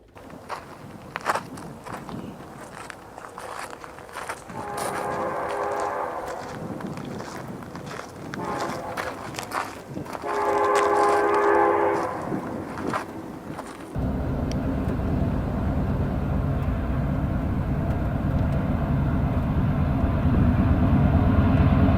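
A freight train passes a crossing in Barstow, its locomotive horn sounding two long chord blasts before a loud rolling rumble of the train going by, with wind noise throughout.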